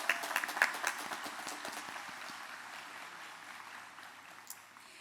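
A crowd at a college commencement claps for a cohort of doctoral graduates, with sharp individual claps at the start and dense applause that gradually fades.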